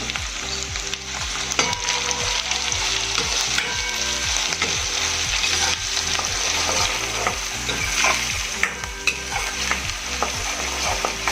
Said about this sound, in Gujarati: ડુંગળી આપણી બરાબર સાંકળવાની છે